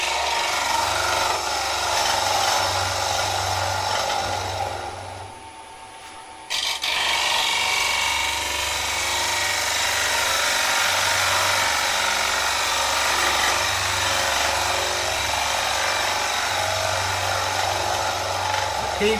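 A gouge shears a wooden ogee bowl spinning on a lathe, a continuous rough scraping hiss with a steady low motor hum, briefly dropping away mid-cut before resuming.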